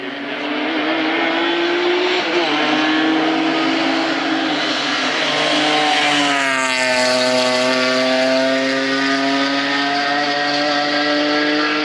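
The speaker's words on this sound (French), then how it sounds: "La première des Porsche Grand Tourisme" A Porsche Grand Touring race car climbs a mountain hill climb course, its engine loud and continuous, revving up through the gears with clear shifts as it passes close by.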